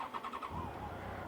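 A 2007 Yamaha FJR1300A motorcycle engine starts after sitting five days in a car park, with a brief cranking pulse followed by a steady close idle rumble, no talk.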